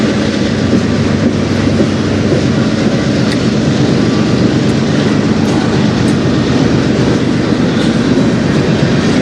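A CN freight train rolls past close by on the Strathroy Subdivision, a loud continuous rumble with clattering wheels and brief metallic squeals.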